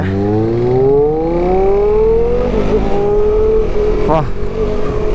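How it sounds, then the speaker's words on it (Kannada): An inline-four superbike engine revving hard on a group ride, a loud rising high-pitched wail that climbs steadily before dropping back, heard up close with some talk around it. "ಇನ್ಲೈನ್ ಫೋರ್ ಸೌಂಡ್ ನೋಡಿ"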